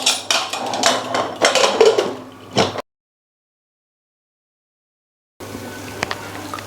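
A pressure cooker lid clanks shut while biryani is being made with Mappillai Samba rice: a run of loud metallic knocks and scrapes, then silence, then quieter kitchen noise.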